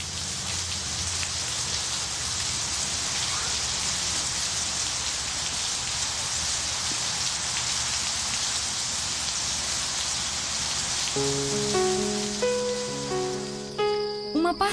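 Steady rain falls on surfaces as a dense, even hiss of drops, with a soft musical tone entering near the end.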